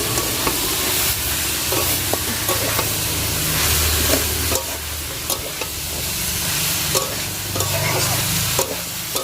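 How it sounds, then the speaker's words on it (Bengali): Vegetables sautéed in a pan on a wood-fired stove give a loud, steady sizzle and hiss, with repeated spatula scrapes and knocks throughout and no speech. "এই সবজিগুলোর মধ্যে দিয়ে দেবো দিয়ে একটু ভালো করে কষিয়ে নেব"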